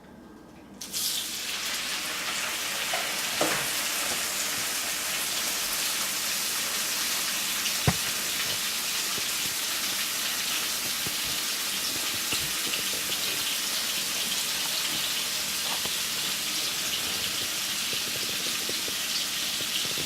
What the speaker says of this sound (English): Let's see how that chicken is sizzling down.